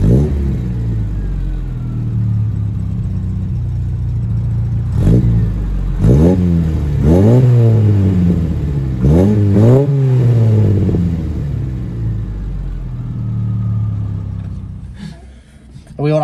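A Mk1 Ford Fiesta 1300 with a 1.3 crossflow engine idles with a steady low rumble, then revs up and down in several sharp rising-and-falling blips. Voices are audible at points over the engine.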